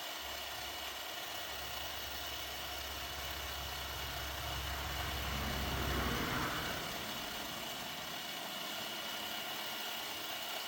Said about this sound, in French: le moteur de la vitesse, quand il force, ça veut dire qu'il manque de l'eau